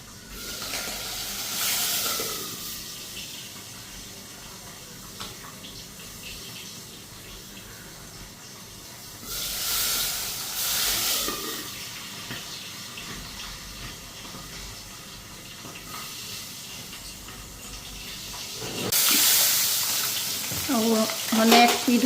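Fish frying in a wok, hot oil hissing and spattering in loud bursts that swell and fade over a steady low crackle, with no talking.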